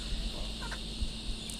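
Birds being hand-fed at Mt. Nebo in Queensland give a few short squawks and calls close by over a steady outdoor background hiss.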